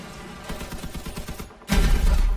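Rapid gunfire in the vehicle combat game Crossout, shooting at an enemy vehicle's generator; a steady stream of loud shots ends in a sudden, louder burst, likely the generator exploding, with no talking.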